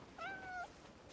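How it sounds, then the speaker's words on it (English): A cat in the video game Crimson Desert gives a single clear, mid-length meow while being petted, close and distinct over a quiet background with no talking. "So we can grab this cat, and then we can pat the cat."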